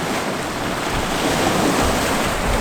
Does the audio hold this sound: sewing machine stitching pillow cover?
no